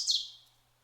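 A single vireo call, a bright, sharp chirp that slides down and fades within half a second, fairly close and alone against a quiet background.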